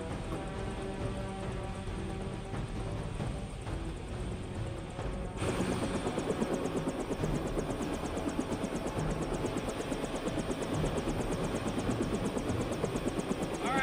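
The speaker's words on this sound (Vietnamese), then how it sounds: "Trực thăng của chúng ta kìa, đi thôi." A helicopter engine and rotor drone steadily in the background, jumping to a louder, denser chop partway through as the machine comes closer, with no talk.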